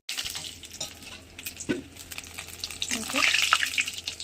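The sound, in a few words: frying lentil fritters (bora) in oil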